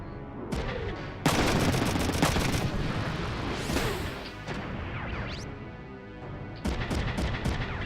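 Loud, dense bursts of mech gunfire and crashing impacts from the tactical game Front Mission 3, firing rapid volleys in bursts with short lulls between, some blasts sharp and explosive, no talking.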